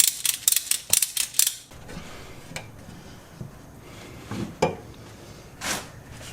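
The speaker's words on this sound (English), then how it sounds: "So I'm gonna go ahead and set up that ratchet strap" A ratchet strap is set up on a flywheel during a Nissan G35 engine rebuild, with a quick run of sharp metallic ratchet clicks up close, then scattered clanks and rattles of the strap and tools.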